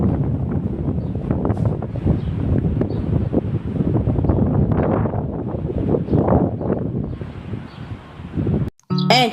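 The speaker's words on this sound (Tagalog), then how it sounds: "malakas lang talaga ang hangin dito sa Wellington" Strong gusty wind in Wellington buffets the microphone in heavy, uneven rumbling blasts, loud and close for several seconds, then drops out abruptly before a brief final burst.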